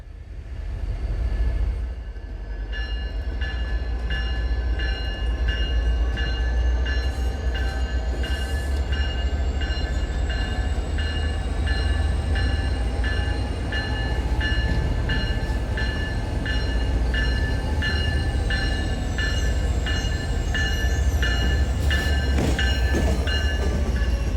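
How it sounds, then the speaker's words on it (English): Diesel locomotives haul a train out of South Station, a loud steady engine drone with wheel screech and high squealing tones rising over the rumble, continuous and close throughout. "let's watch as the locomotives that brought it into South Station head back south to Middleboro for tonight's dinner train"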